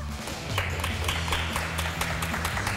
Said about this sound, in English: By round of applause, we have Chef Laura.